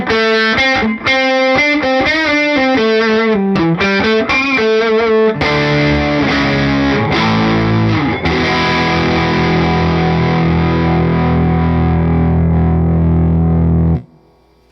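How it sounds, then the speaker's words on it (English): A Fender American Professional II Jazzmaster electric guitar on both pickups in the neck circuit with volume and tone fully open plays a quick picked run, then rings out a sustained chord that fades and cuts off, loud and without talking. "Let's jump up to both pickups working together in the neck circuit."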